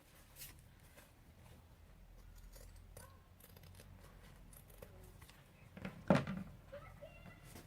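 Scissors trim a fabric seam from the reverse side while sewing a trapezoid zip pouch. Quiet, sparse snipping and rustling of cloth lead to one sharper, louder cut near the end, close up.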